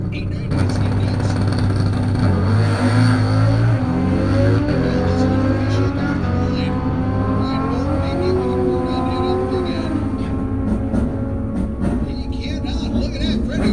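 A 1996 Buell and a 1978 Kawasaki launching side by side down a drag strip, engines revving hard and rising in pitch, loud and continuous under an announcer's talk.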